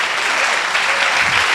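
Steady clapping from a church congregation during a Sunday service, a dense, even wash of applause filling the room without pause.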